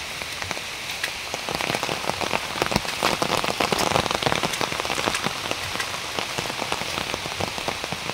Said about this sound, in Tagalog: Sobrang lakas ng ulan dito sa amin.